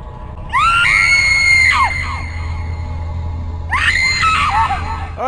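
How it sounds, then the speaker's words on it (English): A woman lying on the floor in the video game Ripper screams while swatting at imaginary bugs on her skin. She lets out two long, loud, wavering shrieks separated by a short gap, over a low background hum. "Chick on the floor, screaming, swatting at imaginary bugs on her skin"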